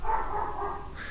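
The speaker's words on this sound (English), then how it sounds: "And so Penley, the Pomeranian, sees a car moving and thinks it's, you know, someone's trying to break into the house" A Pomeranian barks at a car moving out of a neighbor's garage early in the morning, giving a close, loud, continuous yapping burst.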